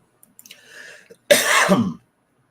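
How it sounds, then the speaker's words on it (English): A short throat-clearing rasp followed by one harsh, loud cough up close, with silence after. "I know those coughs have to be loud."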